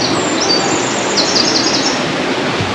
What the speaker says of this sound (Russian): Тут уже поют птички.